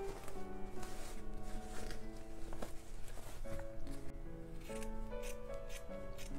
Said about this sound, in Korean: 안쪽에서 시접을 짧게 잘라주세요.